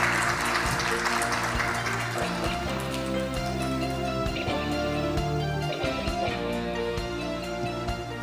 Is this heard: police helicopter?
no